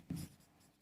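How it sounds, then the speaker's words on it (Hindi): A single short stroke of writing on a classroom board, a brief soft scratch lasting a fraction of a second, quiet and close with no talk over it. "सो यहाँ पे पहले मैं एक लाइन लिखता हूँ"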